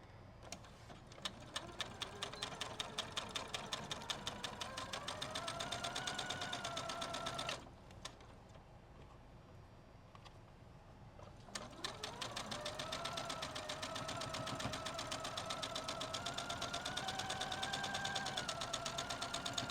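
A domestic sewing machine stitches quilt pieces together in steady rapid bursts with a fast mechanical ticking and a rising motor whine, pausing for several seconds midway before running again, close and clear.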